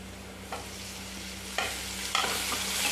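Tomato fries in a pan for green chilli thecha, a constant soft sizzle with a few scraping stirs over a low steady hum.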